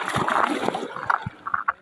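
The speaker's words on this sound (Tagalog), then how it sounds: "Lakas ng hampas ng alon." Sea waves slap and splash hard against rocks along a stony shoreline in quick irregular bursts, close and fairly loud, with no talking.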